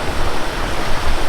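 Fast floodwater pours over dirt trails in a loud, dense, unbroken roar, close and steady, with no voices.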